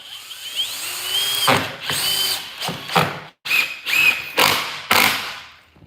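A power drill drives screws into wooden boards in close, loud bursts: rising whirring runs, each ending abruptly, repeated about six times with short pauses between.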